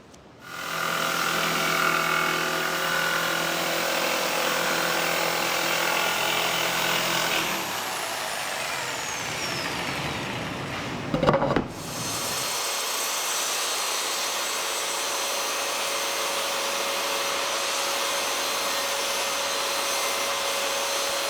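A power saw runs loudly for several seconds cutting 1/2-inch plywood, its tone dropping as the cut ends, then a brief clunk before a lighter steady motor whir carries on.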